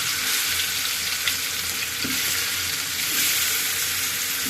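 Fish frying in a pan during home cooking, a steady dense sizzle of hot oil that runs continuously and close throughout, with a few faint clinks and stirring touches.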